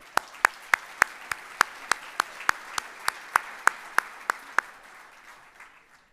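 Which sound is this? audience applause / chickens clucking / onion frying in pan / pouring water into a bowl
audience applause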